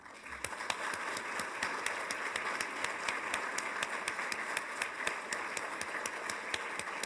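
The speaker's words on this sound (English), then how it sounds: "Why don't we give one final round of applause to those public workers who are here" A final round of applause for public workers at a county State of the County address, a steady crowd clapping heard from a moderate distance, sharp individual claps poking through a dense wash of hand claps for several seconds.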